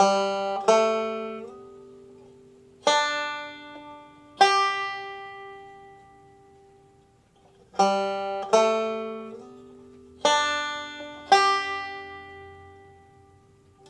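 Banjo chords from the gospel tune I'll Fly Away, plucked in crisp bright attacks with a slide into chord shapes, spaced out in pairs with ringing decay between, close and alone.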